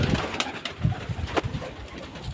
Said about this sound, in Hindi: आओ कबूतर दिखा देते हैं अंदर ले जाने के बाद सेटअप।